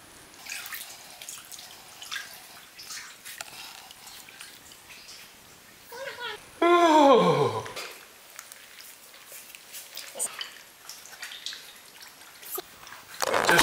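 Water sloshes and splashes as someone wades through deep water in the Tunnel Slot canyon of Harris Wash, Utah, with faint drips and echoes, a sudden loud splashing surge midway, and brief voices.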